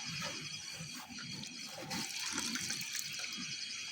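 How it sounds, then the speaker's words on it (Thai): Water pours steadily into a cooking pot at an outdoor rice-field camp where beef is being boiled, a continuous close splashing stream with no talking over it. "นี่เราจะเทน้ำอีกหน่อย"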